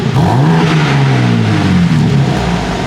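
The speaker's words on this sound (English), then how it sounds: "Listen to that. Really nice with the valves open." A 2021 BMW M3 Competition engine revs loudly with exhaust valves open, a deep, throaty exhaust roar, pitch rising and falling steadily over a few seconds, close by.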